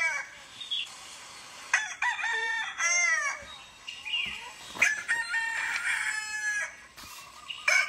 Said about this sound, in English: Then the rooster crowed.